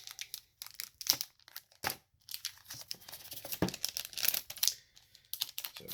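BattleTech Alpha Strike game card packs being unwrapped up close, with crinkling plastic, sharp tears and small rustles coming in irregular bursts, no talking.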